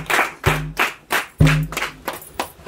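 A church congregation claps together in a steady, rhythmic beat for Jesus, about eight sharp, loud claps in quick succession with a little low resonance under some of them.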